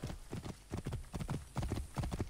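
Horse galloping in Assassin's Creed Origins, rapid rhythmic hoofbeats pounding in quick repeating groups, moderately close and fairly quiet.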